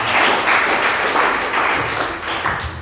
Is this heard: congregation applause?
yes